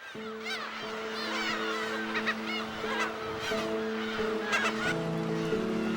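Black-tailed gulls call on Dokdo, a dense chorus of overlapping nasal, mewing cries over a steady background drone, moderately loud and continuous.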